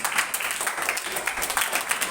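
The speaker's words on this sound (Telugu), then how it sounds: "చప్పట్లు మాత్రమే కొట్టి అందరూ చేయొచ్చు" Scattered applause from an audience at a 2025 VBS program prize giving, a brief patter of clapping with no clear voices.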